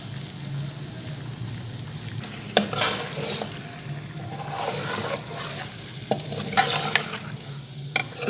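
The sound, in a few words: beef karahi frying in oil with black pepper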